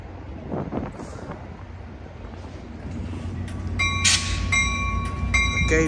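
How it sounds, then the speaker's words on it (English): An Amtrak Capital Corridor train, led by an F59PHI locomotive, pulls out of Emeryville station, California, heading for Sacramento and Auburn; a steady low rumble builds as the cars roll past amid wind buffeting, with sharp metallic squeals near the end. "this is Amtrak 538 highballing out of here to Auburn"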